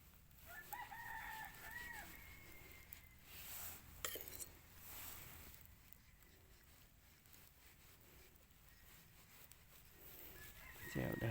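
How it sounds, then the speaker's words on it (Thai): A rooster crows outdoors in a rural Thai setting, two moderately faint crows at the start and end over steady background hiss and light clinking. "เสียงไก่ขัน"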